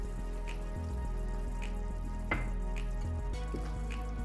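Water poured into a pan of cooked minced chicken keema with stuffed bell peppers sets off a soft, steady sizzle, with faint bubbling and occasional light pops and clinks underneath.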